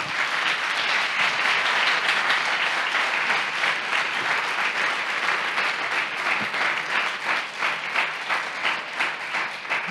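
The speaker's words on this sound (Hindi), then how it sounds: "आइए यीशु के लिए जोरदार ताली बजाएंगे।" A church congregation claps loudly together in praise during a Hindi sermon, a dense, sustained roar of applause filling the hall without pause for the whole stretch.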